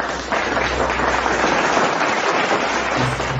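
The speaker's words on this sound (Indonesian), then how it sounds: "Darah Yesus, tepuk tangan buat Tuhan." An audience in a church claps for God, a dense, steady wash of hands that stays loud and close for the whole stretch without pause.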